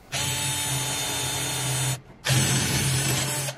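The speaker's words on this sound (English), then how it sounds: "So we should just be able to drill these out, and then we'll have a look at what's inside." A power drill whines steadily while drilling out brass rivets on a prototype power switch for a combat robot, two sustained close runs with a short break between them.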